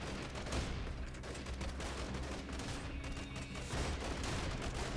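Gunfire in the PC game Freeman Guerrilla Warfare, with a dense, continuous fusillade of shots and rattling bursts, fairly loud throughout.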